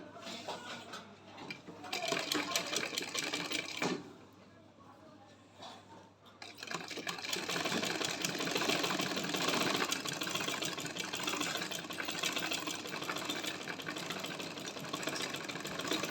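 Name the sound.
sewing machine stitching a folded hem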